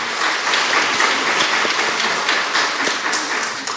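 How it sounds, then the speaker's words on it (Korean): A church congregation applauds warmly during a Sunday worship service to welcome new members, a steady, dense wash of clapping from many hands that fills the room throughout. "환영의 박수를 뜨겁게 보내줍시다."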